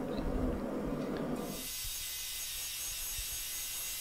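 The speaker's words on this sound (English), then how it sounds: "I did not get a good forge weld on that piece so I thought I would try and just grind it out" A grinder works a bad forge weld out of a Damascus steel billet, with a rough rasping grind that shifts partway through into a bright, sustained hiss, close and steady with no talk.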